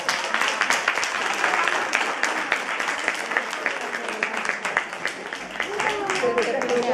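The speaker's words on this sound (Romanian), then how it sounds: "Bun, aplaudați!" Seminar audience in Romania breaks into applause, a dense, sustained patter of many hands clapping nearby for the whole stretch, with a few voices murmuring underneath toward the end.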